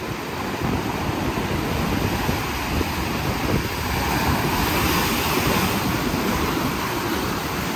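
Surf on a warm-water beach along the Ivory Coast near San Pédro, a constant broad wash of breaking waves mixed with wind buffeting the microphone, steady and fairly loud with no voices.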